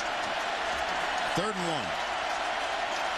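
A stadium crowd roars steadily at a 2008 Alabama versus LSU college football game, a dense wash of cheering that holds throughout while a commentator talks over it.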